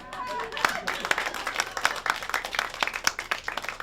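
Audience at a live talk show breaking into scattered clapping and applause, sharp uneven claps building under a lively room.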